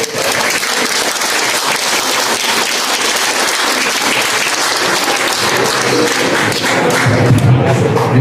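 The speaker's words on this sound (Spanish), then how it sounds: "Un aplauso al ingeniero." Sustained, loud audience applause fills a conference hall for an agronomist engineer's talk on botanical garden cultivation, dense steady clapping throughout with a slight swell near the end.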